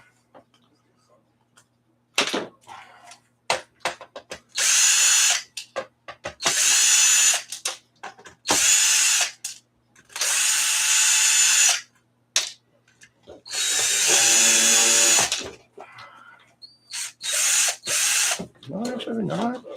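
A power tool spinning out bolts during a Polaris Slingshot-style Spyder rebuild, in bursts of loud whirring and ratcheting separated by short gaps, with metallic clatter and occasional voices in between.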